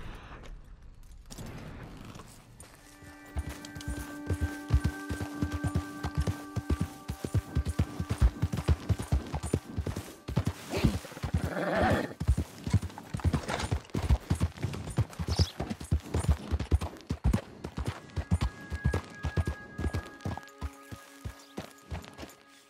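Horse hooves gallop in Red Dead Redemption 2, a fast, steady clip-clop rhythm that is close and continuous, with sustained tonal music running underneath for stretches.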